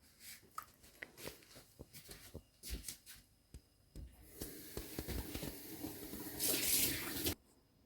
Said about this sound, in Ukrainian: Тепер зальємо бульйоном.